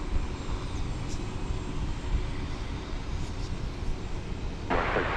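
Cessna SuperCargomaster propeller aircraft at DFW Airport produces a steady engine drone at moderate distance, with a brief louder hiss rising near the end and no speech.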